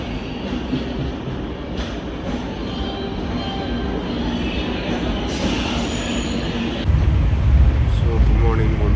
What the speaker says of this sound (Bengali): আমাদের এই ট্রেনে করে আমরা সালেম জংশন থেকে এর্নাকুলাম জংশনের জন্য রওনা